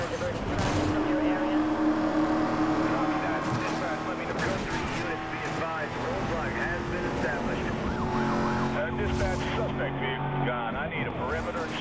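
Police car sirens wail steadily through a Need for Speed: Most Wanted chase, rising and falling tones layered over engine roar and game noise, continuous and fairly loud, with speech mixed in.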